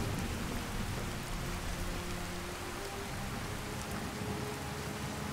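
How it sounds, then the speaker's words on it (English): Heavy torrential rain pours down steadily in Skyrim, a dense, continuous hiss of downpour with a low rumble beneath, loud and unbroken throughout with no voices. "even during a torrential downpour, this region of the world is considerably less"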